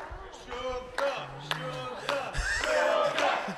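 A wrestling crowd chants rhythmically during an IPW championship match between James Shaw and Vinny Dunn, with loud group shouts, claps and voices rising and falling in a pulsing pattern.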